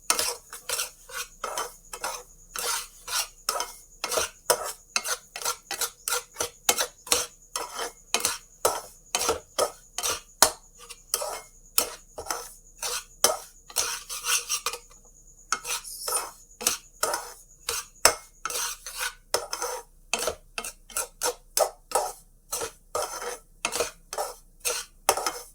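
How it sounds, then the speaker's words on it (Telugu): Upma semolina being roasted in ghee with a metal spoon, heard as rapid, rhythmic scraping and clinking against the pan that runs almost nonstop for about 25 seconds and pauses briefly midway. No one speaks. "నేతిలో కొంచెం బాగా వేగాలి ఫ్రెండ్స్"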